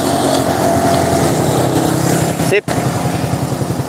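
A Honda Supra motorcycle engine idles smoothly nearby in a loud, even stream of rapid low pulses, briefly cut off for an instant, while a short word is spoken.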